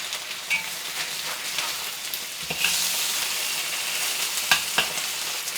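Chicken pan-fries in a wok over medium heat, giving a steady sizzle that swells partway through, with a few sharp utensil clicks and scrapes near the end.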